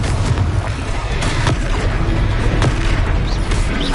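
A Confringo fire spell from Hogwarts Legacy bursts in a battle, producing heavy booming blasts with sharp cracks over a dense, rumbling wash of combat noise.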